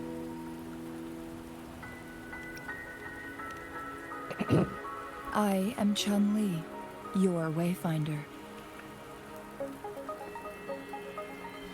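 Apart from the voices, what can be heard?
rain in Wuthering Waves video game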